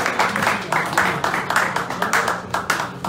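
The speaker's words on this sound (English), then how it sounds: "Give them a round of applause." Audience applause at a political fundraising event in Columbus, Ohio: a moderate, steady patter of hands clapping in uneven bursts, with some voices mixed faintly underneath.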